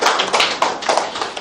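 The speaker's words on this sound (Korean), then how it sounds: "또 우리 젊은 사람이 해주는 거니까 더 큰 박수 좀 부탁드립니다." Audience applause at a Korean literary forum: a brief, loud patter of many hands clapping at once.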